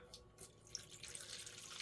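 99% isopropyl alcohol pours into an electric epoxy mixer as a faint, steady trickling splash lasting the whole moment, with no voices.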